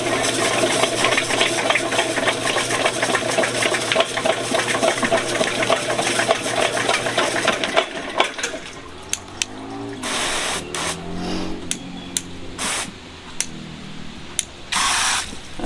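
A VEVOR 75-foot, 1/2-inch auto feed drain cleaning machine runs loud and steady with a hissing, whirring drone, then drops to quieter uneven rattles and sharp clicks as it cleans and feeds cable.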